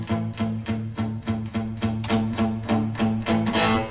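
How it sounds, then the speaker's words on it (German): Electric guitar with single-coil pickup driven through an Ibanez TS-808 Tube Screamer overdrive pedal at low gain, playing a steady repeated riff of about ten evenly spaced picked notes, thick and boosted, close and alone. "Und jetzt kickt man den Tube Screamer rein."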